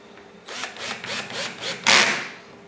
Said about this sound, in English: start at a very low torque setting so you don't spin out the screws